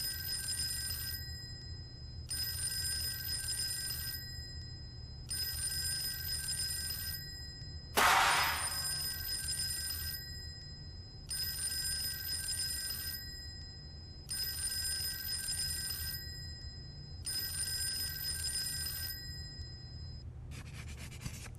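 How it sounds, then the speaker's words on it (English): Telephone ringing in the video game Fork Road: seven evenly spaced bright electronic ring bursts, each about two seconds, over a steady low hum, with a brief clang near the middle. "How many times did the phone ring?"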